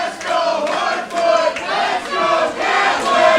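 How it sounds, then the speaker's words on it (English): Dueling chants from an Absolute Intense Wrestling crowd at a match between Kaplan and Hoodfoot, with massed voices rising and falling in rhythmic waves, loud and filling the hall. "Here we go, dueling chants right now from the crowd."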